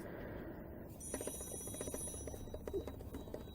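A mobile phone rings indoors, a faint repeating electronic tone under soft handling noises and rustling, with no talk.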